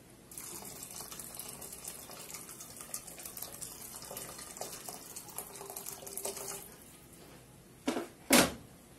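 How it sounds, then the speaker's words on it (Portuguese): Water pours steadily from a tap into a pot of zucchini soup for about six seconds, then stops; a couple of sharp clatters follow near the end. "Aí coloca sempre água assim"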